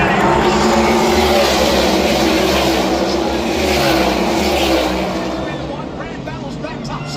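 NASCAR stock cars racing in the 2025 All-Star race, a loud, sustained engine roar from several cars close together at speed, with a commentator talking over the noise.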